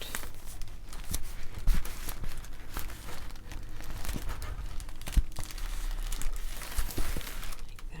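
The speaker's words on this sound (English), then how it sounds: "take some more of that washi tape, straighten it out" Washi tape is handled and straightened by hand while making diamond art, producing soft crinkling and rustling with a few small taps, close and fairly quiet, continuing steadily.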